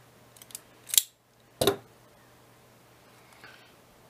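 Two crisp snips of a wire stripper cutting through insulation on wire ends, close and isolated against near silence, with a faint click afterward.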